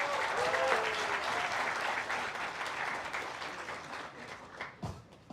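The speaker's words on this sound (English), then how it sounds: "Give a huge round of applause for yourself guys." An audience at a college tech festival creators' event gives a huge, sustained round of applause, dense clapping with crowd noise filling the hall at a steady level before tapering slightly near the end.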